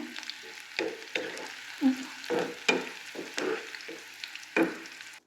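Garlic frying in a pan makes a soft, faint sizzle, broken by a string of short, close scraping bursts as it is turned and lifted out. No voices.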